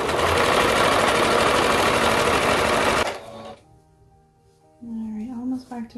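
A sewing machine stitches knit romper fabric along a serged seam with a loud, fast, steady whir for about three seconds, then stops abruptly; a person begins talking shortly after.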